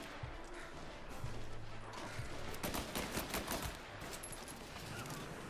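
Gunfire in the video game Mafia Definitive Edition, a dense and continuous stretch of rapid shots and crackling bursts over steady background game noise, at moderate loudness and with no talk.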